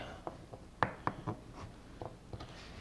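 Quiet, irregular taps of a knife trimming the hard ends off peeled garlic cloves, a handful of light, close cuts spread out with pauses between them.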